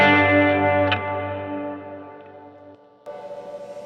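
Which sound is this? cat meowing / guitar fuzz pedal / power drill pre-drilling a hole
guitar fuzz pedal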